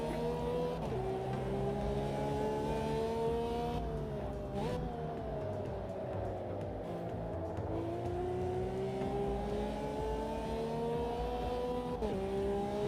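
Lamborghini in the Automobilista 2 racing game, understeering through corners: a steady engine drone with shifting pitch runs throughout, overlaid by a sustained high tyre squeal that rises and falls through the turns, loud and continuous without talk.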